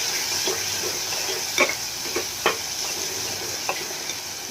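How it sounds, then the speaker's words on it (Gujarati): Tomatoes being stirred into hot oil with turmeric and salt in a pan for a Kathiyawadi sev tameta curry, with a steady soft sizzle and a few sharp clinks and scrapes of the spoon against the pan. "આપણે ટમેટા ઉમેરીને એમાં હળદર અને મીઠું એડ કરી દઈશું। સ્વાદ પ્રમાણે આપણે મિક્સ કરી લઈએ"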